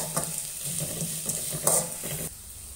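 Chopped vegetables for rava kichadi sizzle and crackle in a hot pan while a utensil scrapes and stirs them in several quick strokes, close by.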